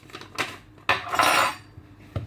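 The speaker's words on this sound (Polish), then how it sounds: "to wszystko sobie zmieszam łyżką" Metal spoon clinks and scrapes against a bowl while apple pie dough ingredients are mixed, a few sharp knocks and then a longer scraping stir, close and clear.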